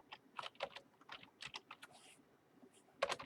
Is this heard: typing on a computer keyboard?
yes